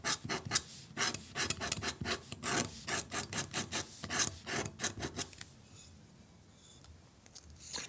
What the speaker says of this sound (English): We can use something to scratch. So here I have a palette knife.